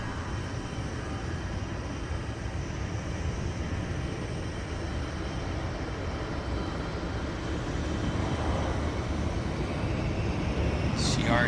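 A CRJ regional jet departing Vancouver Airport, a broad steady roar of jet engines heard at a distance that slowly swells louder toward the end, with no talk over it.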